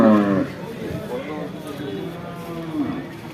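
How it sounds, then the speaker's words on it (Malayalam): Young buffalo calves low among cattle, opening with a loud, close, drawn-out bellow and then giving softer, shorter calls. "ഇതൊക്കെ പോത്തും കുട്ടികളാട്ടാ."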